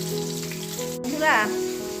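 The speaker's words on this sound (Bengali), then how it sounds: "মাছটা দেখো ভীষণ ফুটছে" Mustard pabda fish curry boils hard in a pan, giving a steady, close bubbling sizzle that runs throughout and swells briefly toward the end.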